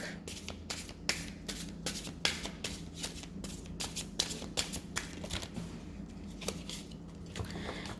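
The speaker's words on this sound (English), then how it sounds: "I think it's already shuffled. So I'm going to start with cleaning the deck." Rapid riffling and flicking of playing cards in repeated bursts, close and crisp, over a steady low hum.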